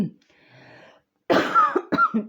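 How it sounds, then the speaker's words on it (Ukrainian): A short cough, a moment of quiet, then a harsher burst of several throaty coughs close to the listener. "не можу ніяк кашель цей мучить мене"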